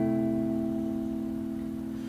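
A guitar holds a C sixth chord as a steady, sustained tone that rings evenly and fades only slightly over about two seconds, with no talking.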